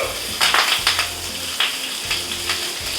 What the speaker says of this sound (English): we're frying the bok choy in our pan is what we're doing